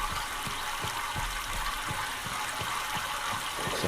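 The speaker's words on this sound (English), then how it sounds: "Water is flowing this direction." Water flows steadily in the Myst game world, a faint, continuous rushing wash with soft, regular thuds from something mechanical beneath it and no voices.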